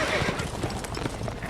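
A horse in distress in the video game The Witcher 3: Wild Hunt, with hoofbeats and a strained whinny heard up close while a player speaks over it.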